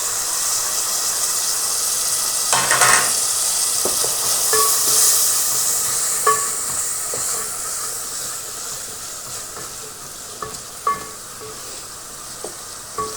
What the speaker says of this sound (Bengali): এখানে দিয়েছি তেল, দিয়ে দিছি পেঁয়াজ, সামান্য একটু ভেজে নিব।